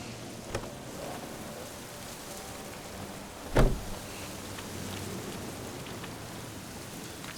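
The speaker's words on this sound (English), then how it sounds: "Still raining." Steady rain falls in the video game The Witcher 3, a constant patter on surfaces with one brief louder knock midway and no voices.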